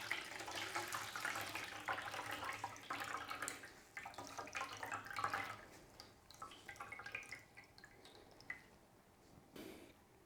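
Water drips and splashes as a wet microfiber cloth is wrung out, trickling in bursts that taper off, close and fairly quiet.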